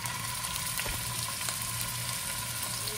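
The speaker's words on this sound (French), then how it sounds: "Okay, we are ready to cook the meatballs." Meatballs fry in organic olive oil over moderate heat, a steady close sizzle with faint crackles throughout and no talking.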